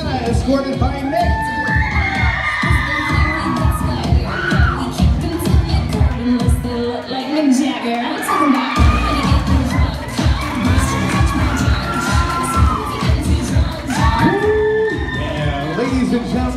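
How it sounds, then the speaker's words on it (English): A Sweet 16 party crowd cheers, whoops and shouts as the birthday girl is escorted in. The noise is loud and sustained throughout, with excited voices overlapping. "a big round of applause for Gianna"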